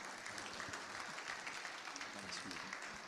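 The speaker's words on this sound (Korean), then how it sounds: "우리 뜨겁게 박수로 환영해 주시면 감사하겠습니다" Quiet, steady applause from a forum audience at a Korean theological seminary event, a continuous wash of clapping heard from some distance for a few seconds.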